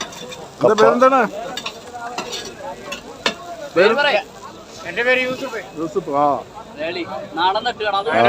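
Chicken sizzles on a grill at a market food stall, a steady frying hiss under loud, close talking that continues throughout.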